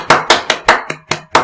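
Six sharp hand claps in an even, fairly quick rhythm, close and loud, with no talking, showing a style of applause given after a Nazi salute and speech.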